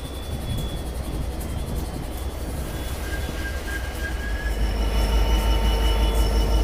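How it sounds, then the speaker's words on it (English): The Indian Pacific train is led out of platform 2 at Sydney Central, with rolling wheel noise, thin squeals from the wheels and a deep rumble that grows louder toward the end. No one speaks. "this half is getting led out of platform number 2"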